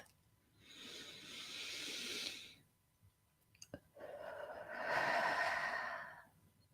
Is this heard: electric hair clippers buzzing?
no